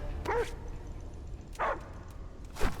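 A dog barks inside the horror video game Die Young, three short yipping barks spaced about a second apart over a low ambient game backdrop.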